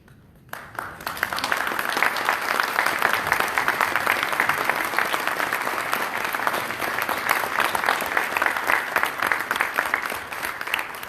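A college gala audience breaks into loud applause for the Board of Trustees, starting after a brief pause and holding as a dense, even wash of clapping for about ten seconds.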